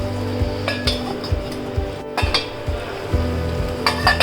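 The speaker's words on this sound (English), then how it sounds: "Now we will cover this and cook it for 2 to 3 minutes." Potato curry cooks in a pan on the stove with a steady sizzle and bubbling, punctuated by repeated metallic clinks and knocks of a lid or spoon against the pan, close and fairly loud.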